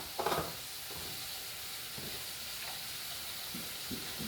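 Chicken for curry fries in a pan with a steady close hiss and sizzle, a few soft stirring knocks breaking through the even crackle.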